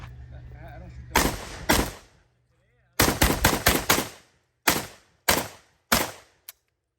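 Shotgun fire from a JTS M12AK or Kalashnikov KS12-T semi-auto, loud and close: two early shots, then a fast string of about five, followed by paired double taps and a final quick crack, all sharp with echoing tails.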